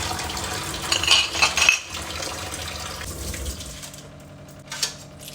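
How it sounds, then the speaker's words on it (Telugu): Metal puja idols, goddess bangles and brass utensils being washed under water for Shivaratri, with close clinks and scrapes of metal over running, splashing water, busiest early and then quieter with one later clatter; no talking. "ఇంకా అన్నీ నీట్గా కడుక్కుంటున్నాండి దేవతా సామాన్లు"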